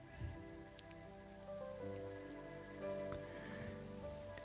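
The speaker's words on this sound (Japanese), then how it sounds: "東京地方は今雨で、だいぶ降っております。" Heavy rain pours down in Tokyo at night, a steady dense hiss of drops hitting surfaces that holds through the whole stretch with no voices over it.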